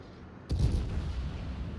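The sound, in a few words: Kronshtadt ship guns firing, naval video game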